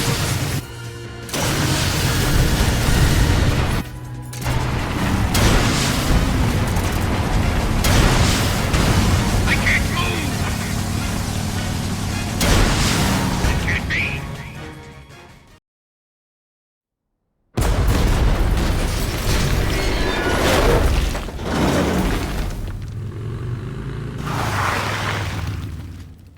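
Missile explosions rattle through a Metal Gear Solid Delta: Snake Eater boss fight: loud, dense booms and crashes follow one another with a brief silent gap midway, and voices talk over the din.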